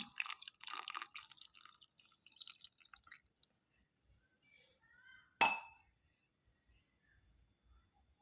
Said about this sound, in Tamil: அடுத்ததாக இதில் வந்துட்டு ஒரு கிளாஸ் தண்ணி ஆட் பண்ணுறேன்